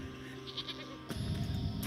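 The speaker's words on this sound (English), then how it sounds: "It's horrified little sheep." A sheep in the video game Wytchwood gives a short, wavering bleat, followed by a louder, rougher second cry, close and clear, with no talking over it.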